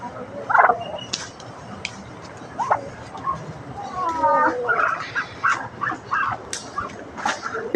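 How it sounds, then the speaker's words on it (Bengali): Three Chinese ducks, one grown and two small ducklings, give scattered high calls and thin peeps. The brief, irregular bursts come from nearby, with low background noise between them. "টোটাল 3টা চীনা হাঁস, বড় বাচ্চা, আরো ছোট 2টা বাচ্চা আছে।"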